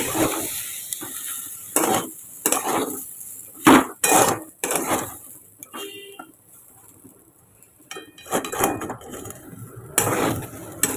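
Ginger and tomato are stirred in a frying pan: a spoon scrapes and knocks against the metal in irregular bursts over a soft sizzle, close up with no talking.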